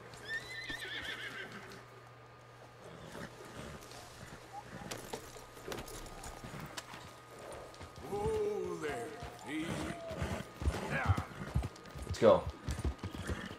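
A horse whinnies and its hooves clip-clop in Red Dead Redemption II, with uneven hoofbeats building toward the end under scattered game sounds and someone speaking.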